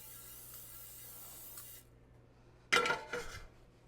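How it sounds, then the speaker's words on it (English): Canola oil nonstick cooking spray hisses from an aerosol can onto a grill pan in two quick bursts, the first sharp and the second slightly softer, close by after a quiet stretch. "We're just gonna spray it with a little bit of nonstick."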